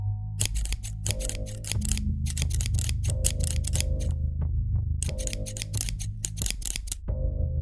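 Repeated metallic snips of scissors, crisp clicking cuts in irregular bursts over a low droning horror-style music bed, close and steady throughout.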